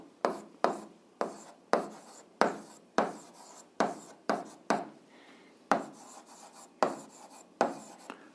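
Handwriting on paper while working an eighth-grade algebra exercise, quick rhythmic scratchy pen strokes repeated a dozen or so times in short bursts, close and fairly quiet with no talk.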